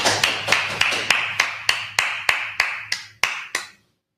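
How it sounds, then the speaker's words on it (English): About a dozen separate sharp claps in a steady, slowing rhythm over a low hum, then silence; a small group in a Hebrew language class clapping for a classmate, close by and fairly loud, with no talking. "clap it up for the brother."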